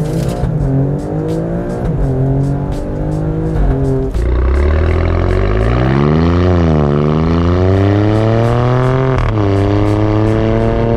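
A 2019 Alfa Romeo Stelvio Quadrifoglio in race mode pulls away hard from a standstill, its engine roaring loud and close as it rises sharply through the revs, with quick gear changes and repeated climbing surges, no one talking.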